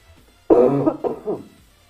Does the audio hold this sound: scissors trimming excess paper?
no